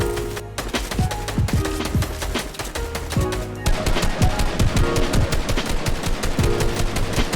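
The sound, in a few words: gunfire in the video game Fortnite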